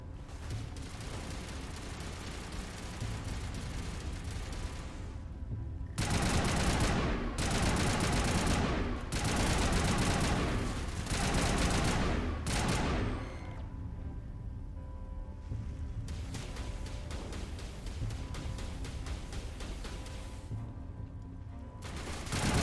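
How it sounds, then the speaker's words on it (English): Heavy gunfire erupts in Mass Effect Legendary combat, loud sustained bursts of automatic shooting in several blasts separated by quieter stretches, with a steady rattling fire underneath throughout. "I'm shooting him in the kneecaps"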